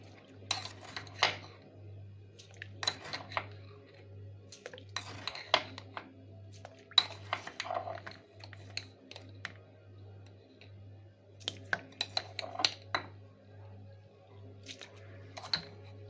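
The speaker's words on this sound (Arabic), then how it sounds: "8 معالق هرميين من الملح" A spoon clinks and scrapes against a container in scattered light taps while heaped spoonfuls of salt are measured for pickled turnips, with a low steady hum running underneath and no talking.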